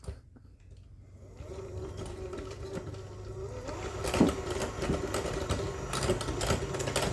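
An electric mixer whirs steadily up close, creaming six tablespoons of room-temperature butter in a bowl for peanut butter and chocolate buckeye cookies, its motor hum growing slightly louder with occasional clicks from the beaters.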